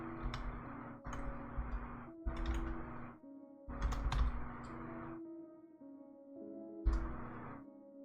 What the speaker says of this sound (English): It's hard to type when your keyboard's obstructed.